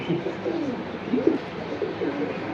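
Pigeons for sale at Jinjira bazaar coo in low, soft, repeated bursts close by, over a murmur of market background noise.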